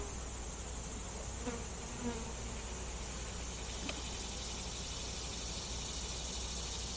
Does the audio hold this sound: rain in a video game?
no